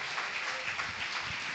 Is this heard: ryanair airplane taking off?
no